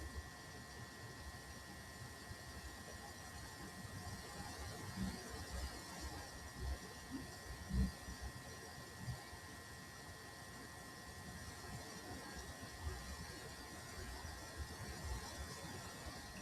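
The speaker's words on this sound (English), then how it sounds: "So we're going to stitch our sleeve onto the dress." A sewing machine stitches a sleeve onto a Barbie doll dress, making a faint, steady mechanical whir with a constant hum and a few small knocks, low in level and alone.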